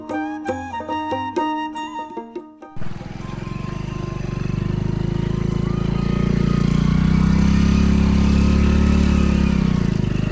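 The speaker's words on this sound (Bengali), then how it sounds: "হাঁটু পর্যন্ত ধুলার মাঝে বাইক চালানো খুবই মুশকিল" A motorbike rides a sandy, dusty char road through knee-deep dust; after a few seconds of music the engine takes over as a close, steady drone that grows louder and holds.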